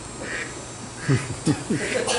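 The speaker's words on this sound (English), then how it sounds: "Oh, the duck went off." A toy or device duck lets out a run of short quacks, several bursts spaced about half a second apart, fairly close and clear over a quiet room hum.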